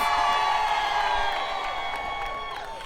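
A rally crowd outside City Hall at a Day Without Human Services event cheers and whoops loudly, the roar and high shouts starting strong and easing off slightly over a few seconds.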